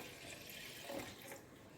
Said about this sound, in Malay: masukkan air putih